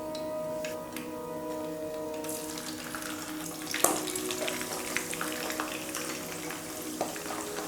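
Tuna drops into hot oil with a sudden burst of sizzling that then crackles and spits steadily, close and moderately loud.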